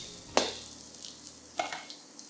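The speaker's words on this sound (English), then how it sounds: "stir fry it for about 20 seconds or so till they are fragrant" Ginger and garlic stir-frying in a pan, a soft sizzle punctuated by two sharp clatters of a utensil scraping and tossing the aromatics, close and quiet.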